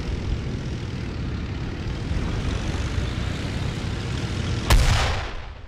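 In a World War II tank video game set at Kursk, a sudden heavy 85mm cannon blast cuts through a steady rumbling engine drone near the end, followed by a brief fading roar.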